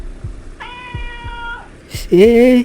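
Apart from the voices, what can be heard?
cat meowing at night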